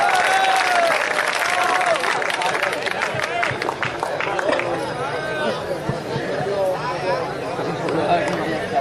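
Loud, sustained audience applause at an Urdu poetry mushaira, a dense continuous patter of many hands with crowd chatter and scattered voices mixed throughout.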